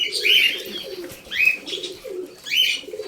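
Pigeons inside their coop coo softly and rhythmically in low, repeated phrases, with sharper chirping calls rising between them, close by and fairly loud.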